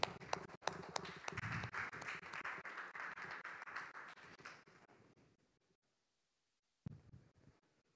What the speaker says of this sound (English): Let's welcome her on stage with your applause